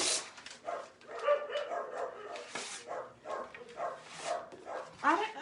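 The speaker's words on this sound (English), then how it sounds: "they're going to start barking" Several dogs bark and yip repeatedly in quick, irregular bursts nearby, with some whimpering mixed in.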